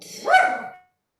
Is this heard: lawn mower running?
no